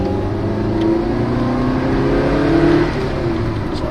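A 1992 Lancia Delta HF Integrale EVO 1 engine revving at about half throttle, a steady loud droning growl that rises slightly in pitch and holds, heard up close with no talking.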